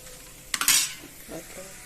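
Potatoes frying in a pan as ginger garlic paste goes in, a brief sharp burst of sizzle and a clink, then quieter stirring scrapes fading into a low hiss.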